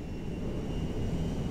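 Cargo jet in GTA V, its engines giving a steady, loud low roar with a faint high whine running continuously throughout.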